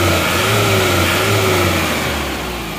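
A car engine with replaced cylinder liners, warmed up, revs up and holds a raised, droning pitch, the tone wavering a little before settling back down; loud and close, no voices.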